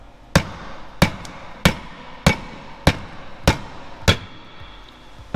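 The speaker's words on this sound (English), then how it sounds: "hit the actual like ring gear itself on the side with a little hammer" Seven sharp metallic hammer strikes on the side of a car differential ring gear, evenly spaced about half a second apart, loud and close with short ringing decay.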